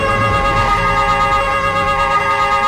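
A police siren in the video game Police Force wails steadily and loudly for the whole stretch, with a car's engine rumbling faintly beneath it.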